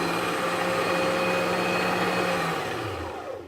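A SINGER 1234 sewing machine winds a bobbin with a steady, continuous motor whir that holds evenly for about three seconds, then slows and tapers off at the end.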